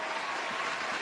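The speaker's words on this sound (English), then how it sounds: "Give him a round of applause" A soundboard applause effect, a brief burst of dense, steady crowd clapping that fills the whole moment at an even, moderate level.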